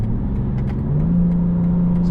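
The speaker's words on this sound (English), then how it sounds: "Some downshifts, and this is regular transmission mode." A 2026 BMW M2 CS engine hums steadily nearby, then its pitch jumps and settles higher as the transmission downshifts in regular mode, a continuous mid-range drone with no talking.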